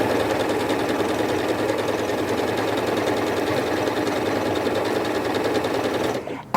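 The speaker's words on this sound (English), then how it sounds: "As we're stitching, you can see that fabric moving every which way." A Janome MC8200 sewing and quilting machine stitches fabric backed with stabilizer, a steady fast mechanical whir with rapid needle clatter running continuously and close, cutting off abruptly near the end.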